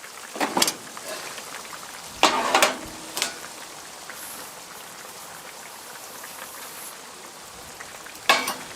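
Couscous stirred into lamb stew in a Dutch oven: a few short scraping stirs at the start and middle, then one more near the end, over a soft steady simmer with no talking.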